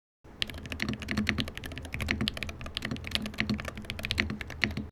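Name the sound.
typing on Luminkey Magger68 keyboard with Jade Pro switches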